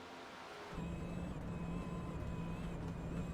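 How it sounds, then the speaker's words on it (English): A race car engine in a sim racing game broadcast starts in a steady, droning hum with a tonal whine that holds evenly, fairly quiet and with no talking. "You can still hear the engine"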